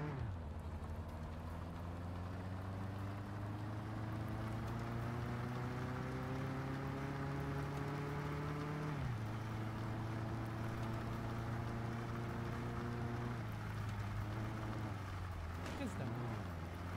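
Car driving in the Mon Bazou video game, a steady engine drone whose pitch climbs gradually as it accelerates, dips briefly near the middle and again near the end, continuous and fairly loud throughout.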